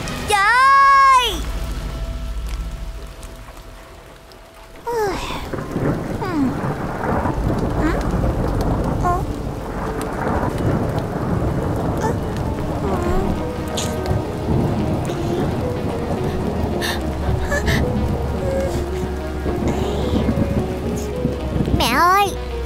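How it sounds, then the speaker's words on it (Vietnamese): Heavy rain with thunder: a dense, steady downpour hissing on surfaces throughout, with booming thunder rolls, and voices talking over the storm. "mưa to quá"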